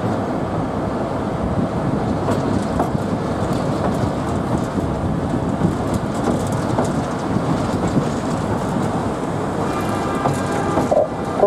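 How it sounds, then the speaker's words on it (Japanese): An Ikawa Line train rolls across a railway bridge over a tributary of the Oi River in Shizuoka, giving a steady, loud rumble with rhythmic wheel clatter throughout, no voices present. "ただいま鈴木の総鉄橋を渡りました"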